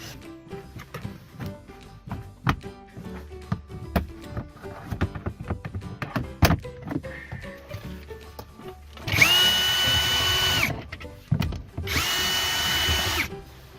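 A power drill bores holes during a dashcam install in a Hyundai Staria, first scattered clicks and handling knocks, then two loud, sustained whirring bursts of drilling a couple of seconds each, close up.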